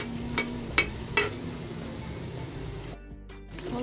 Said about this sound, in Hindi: इनको फ्राई करते हैं। समोसों को करेंगे